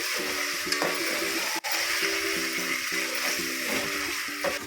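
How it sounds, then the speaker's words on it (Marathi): A spice paste sizzles and is stirred in a pan while cooking a paneer and pea pulao, a steady frying hiss with soft scraping strokes of the spoon, close and continuous without speech. "तुमची पेस्टचा कच्चेपणा जाईपर्यंत छान छान परतून घ्यायचं आहे"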